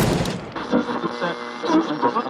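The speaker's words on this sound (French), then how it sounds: "appuie sur la détente de son fusil d'assaut" Assault rifle fire as a sound effect in a Batman role-play story, a dense, loud burst of rapid shots and booming reports that fills the whole stretch.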